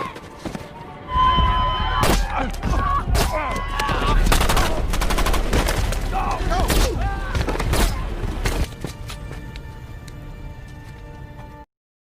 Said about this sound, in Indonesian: Satu persatu para pemberontak pun ditembak.